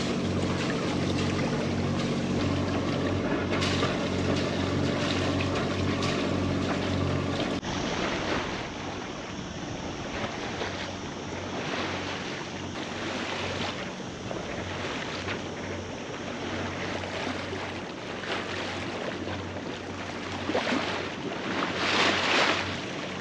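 A sailboat heads out from the cala Sa Calobra on Mallorca just after raising anchor. A steady low drone runs through, with wind buffeting and water rushing along the hull, and no one speaks.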